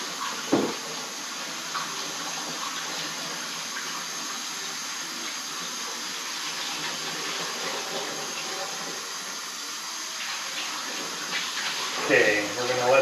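Running water rinses salt off cooked fish in a home pickling kitchen, a steady hissing flow heard close up throughout, with a few clatters and splashes at the start and near the end.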